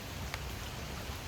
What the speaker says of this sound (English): it's already started to rain, and the rain and wind they're starting to pick up